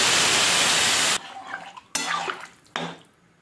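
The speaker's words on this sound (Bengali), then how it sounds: "এবার জল ঢেলে দেব।" Water poured into a pan of fried fish curry, a loud steady rushing gush for about a second, then a few clanking pot-and-spoon knocks and soft bubbling.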